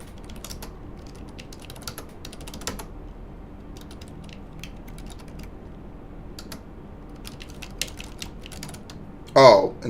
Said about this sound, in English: since I'm typing